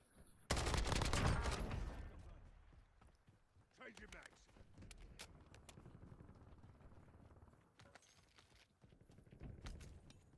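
A dense burst of automatic gunfire in the Warzone battle royale shooter, loud at first and then giving way to scattered distant shots and footsteps while a voice talks over the game.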